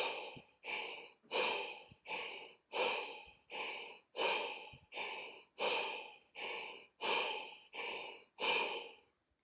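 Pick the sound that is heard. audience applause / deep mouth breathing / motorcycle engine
deep mouth breathing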